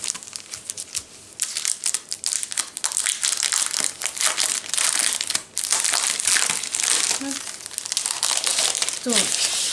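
Packing paper is crumpled and crushed during an unboxing, loud close crackling and crinkling in repeated bursts through most of the span, with a few brief pauses.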